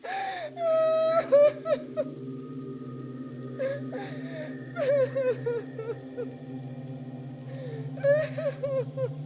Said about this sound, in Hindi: तभी टीम को एक नर्स के रोने की आवाज सुनाई देती है।